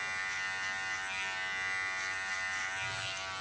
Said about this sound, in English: Just play with my clipper.